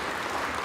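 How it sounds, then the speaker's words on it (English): Applause fills the House chamber during a vote for Speaker, a brief dense burst of clapping from many people with no voices over it. "which is what the applause is"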